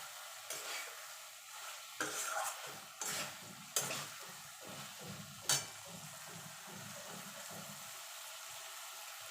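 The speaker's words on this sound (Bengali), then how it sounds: "মশলার সঙ্গে ভালো করে কষিয়ে নেব" Fried okra is stirred with spices in a pan, with a soft continuous sizzle broken by a series of scraping spatula strokes and a few sharper clatters, close and fairly quiet, with no talking.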